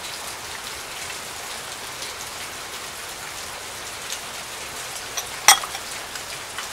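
Steady rain falls on surfaces, a dense continuous hiss with soft patter at even loudness throughout, broken by one brief sharp clatter near the end; no voices.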